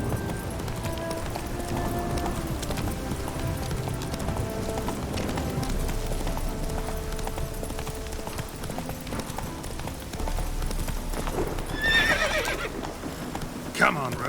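Hooves of Roach, a horse in The Witcher 3, clip-clop steadily at a gallop amid game music and ambience, with a whinny near the end and a voice calling out briefly.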